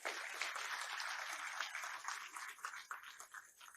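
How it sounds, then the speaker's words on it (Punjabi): A crowd claps loudly and continuously, a dense, sustained applause from a large audience at a public event, steady throughout before thinning slightly toward the end. "ਇੱਕ ਵਾਰੀ ਆਪਣੇ ਆਪ ਦੇ ਨਾਂ ਤੇ ਆਪ ਹੀ ਜ਼ੋਰਦਾਰ ਤਾੜੀ ਮਾਰ ਲੈਂਦੇ"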